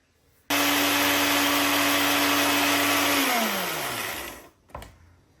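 A Moulinex grinder runs loud and steady for about three seconds on its ingredients, then winds down with a falling whine and stops, followed by a brief clunk.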